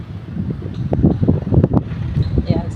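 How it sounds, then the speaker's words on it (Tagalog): Wind gusts buffet an outdoor microphone, giving a rumbling, fluttering rush that rises and falls under a voice speaking close by. "Buti na lang may hangin."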